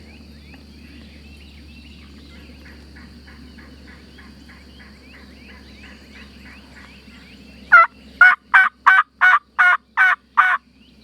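Wild turkeys gobble in a field during spring turkey season in South Carolina, a rapid run of about eight loud, close, pulsing gobbles bursting in after a long stretch of quiet insect and bird background.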